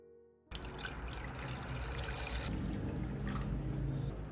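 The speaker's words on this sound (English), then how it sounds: "place a pot on the stove and add just enough water" Water pours steadily into a pot on a stove in a continuous splashing stream, close and fairly loud, starting abruptly after a brief quiet moment.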